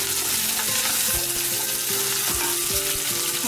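Onion and curry leaves sautéing for sambar give a loud, steady frying sizzle, with repeated stirring scrapes of a spoon in the pan close by and no talk.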